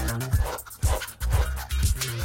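A stressed pug pants hard and close in quick rhythmic bursts, four or five heavy breaths in a row, with no talk.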